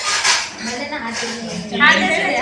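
A spoon clinks and scrapes against dishes while an elderly man is being fed at home, with a few faint metallic chinks heard under close, overlapping family chatter.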